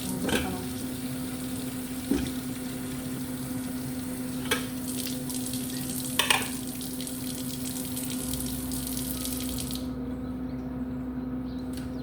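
Brussels sprouts with onions and bell pepper saute in a pan with a steady broad sizzle, broken by a few scattered knocks and scrapes; the sizzle cuts out near the end, leaving quiet.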